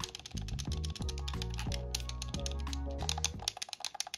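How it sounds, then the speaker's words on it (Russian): Fast, clicky gamepad button presses tapping in a rapid rhythm close up, over a background of steady tonal music. "на обычном геймпаде вы нажимаете вот так вот быстро"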